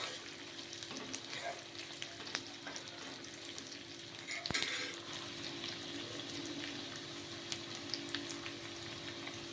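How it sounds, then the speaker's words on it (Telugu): Mustard seeds crackle and fry in hot oil for a prawn and cucumber curry, giving a steady close sizzle dotted with small pops and one brief louder burst partway through, with no voices. "ఆవాలు చిట్పట్టమంటే దాంట్లో నుంచి కొంచెం ఆయిల్ రిలీజ్ అవుతుంది"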